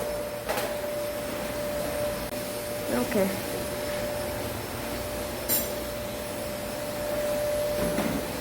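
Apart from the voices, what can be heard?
vacuum cleaner running in a gym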